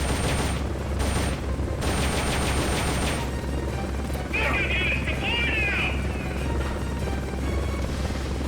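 A helicopter in the video game Metal Gear Solid: Peace Walker drones with a steady low rotor hum, mixed with bursts of gunfire and other game effects, while a player talks over it.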